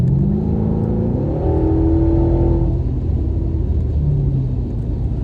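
A 2016 Mercedes S550 coupe engine rises and falls through loud, close revs with a deep exhaust rumble, with no talking over it.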